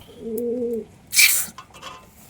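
Domestic pigeons in a home loft give one low, throaty coo up close, then a brief rustling burst and quiet background.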